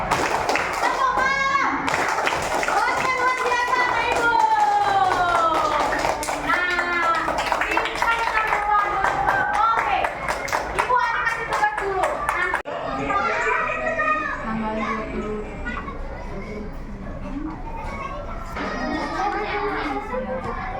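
Children in a classroom play a rhythmic clapping game, their hands snapping in short patterned bursts while many young voices chant along throughout, and an adult's voice sometimes joins in.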